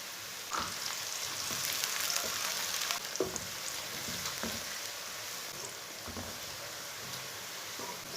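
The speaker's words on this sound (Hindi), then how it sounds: "सब्ज़ लहसुन डाल के भी मैंने 1-2 मिनट के लिए इसे ब्राउन कर लिया।" Green garlic and onions frying in a pan, a soft, steady sizzling hiss throughout with faint crackles and occasional light stirring knocks, fairly quiet and close.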